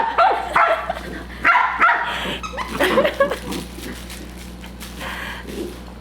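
A corgi puppy barks and yips at a stuffed toy dog indoors, several sharp close barks in bursts with short whimpers between, and a steady low hum in the room behind.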